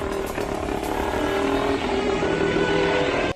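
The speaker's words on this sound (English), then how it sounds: "a pretty cool piece of machinery is this 1931 mono wheel that had a 3-speed gearbox" A 1931 monowheel with a three-speed gearbox and a 174 cc engine runs steadily, its motor droning and clattering at a constant, fairly loud level throughout without talk.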